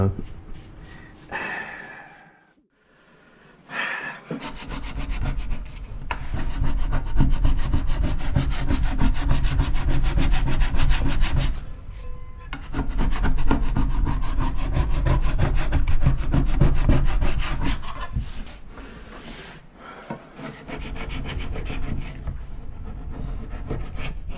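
Steady scrubbing to strip a previously applied coating from a surface, a dense rasping rub that runs continuously with brief pauses, close and fairly loud.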